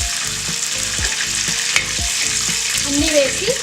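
Mustard seeds, cumin, dried red chilies, curry leaves, green chilies and onion frying in hot oil in a pan for sambar, a loud, close, continuous sizzle with occasional stirring scrapes and pops.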